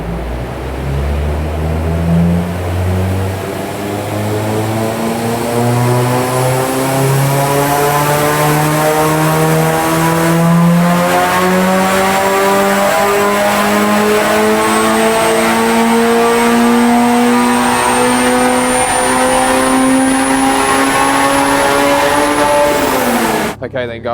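Honda Civic Type R EP3 with drop-in cams on a dyno, engine revving steadily upward in one long loud sweep as the tyres spin on the rollers, with a faint whine over the top.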